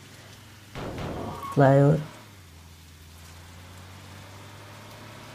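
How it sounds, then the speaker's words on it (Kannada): Heavy rain in the Bus Simulator Indonesia driving game makes a soft, steady hiss throughout, with someone talking briefly over it and a short tonal burst in the middle. "ಜೋರಾಗಿ ಮಳೆ ಬೀಳ್ತಾ ಇದೆ, ರಿಯಲ್ ಆಗಿ ಫೀಲ್ ಆಗುತ್ತೆ ಫ್ರೆಂಡ್ಸ್."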